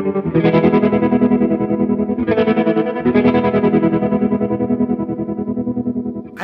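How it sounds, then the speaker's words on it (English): Electric guitar chords ring out through reverb and an Ibanez Super Stereo Chorus pedal, a lush, shimmering wash that swells loudly and sustains, with one strummed change partway through and no talking. "let me add some Ibanez super stereo chorus"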